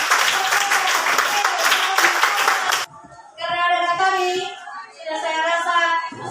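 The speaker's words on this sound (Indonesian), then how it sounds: "berikan tepuk tangan dulu untuk kelompok" Classroom applause for a student group, brisk clapping for about three seconds that stops abruptly, followed by a speaking voice.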